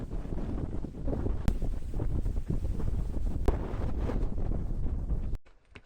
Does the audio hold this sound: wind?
yes